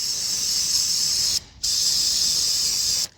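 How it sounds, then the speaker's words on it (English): Brake cleaner sprayed from a can onto the underside of a 2024 Mazda CX-50 AWD 2.5 around the oil drain plug, two loud steady hissing bursts, the first longer, split by a brief pause. "Spray down with your favorite brake cleaner."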